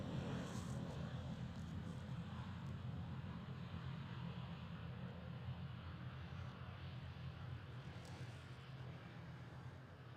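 A British Airways CityFlyer airliner passes at Schiphol Amsterdam airport with a steady, loud jet roar that holds evenly for about ten seconds, with no talk.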